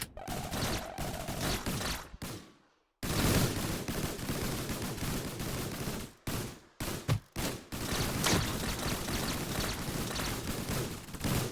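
Dense, continuous gunfire from shotgunner soldiers in the Roblox game Tower Defense Simulator, loud and sustained with repeated bursts, broken by a few short silent gaps.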